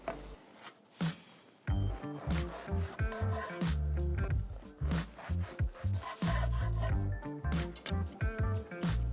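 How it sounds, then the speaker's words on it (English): A serrated bread knife saws through food on a wooden cutting board, rough rasping strokes in an uneven rhythm, close and fairly loud, with short pauses between bursts. "I'm gonna use a bread knife, serrated, so that means whenever I cut through this, it might as well just cut through the cutting board"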